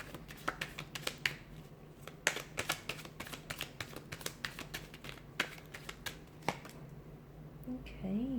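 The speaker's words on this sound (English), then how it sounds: "Let's give the cards a shuffle and see what they're predicting for you here." Tarot cards shuffled by hand in a steady run of crisp, close riffling snaps and taps, irregular in rhythm and moderately loud, with a brief faint tonal sound near the end and no talking.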